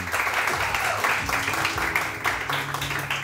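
A television studio audience claps steadily in a sustained round of applause during a morning show, with some voices mixed in underneath.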